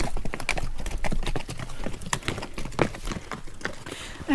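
Horse hooves clip-clop steadily on hard ground outdoors at an RV stop, a close, even rhythm of hollow knocks that continues throughout, with some background noise and a brief whinny-like tone.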